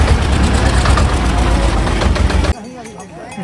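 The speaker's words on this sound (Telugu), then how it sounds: "ట్రాక్టర్లో తిరుగుతున్నాయి ఇక్కడ వెహికల్కి పైకి తీసుకురావడానికి అనుకుంటా" Tractor engine on a rain-slick mountain trekking path between Sonprayag and Kedarnath, a loud, close, rough diesel drone that cuts off abruptly partway, leaving quieter ambient sound.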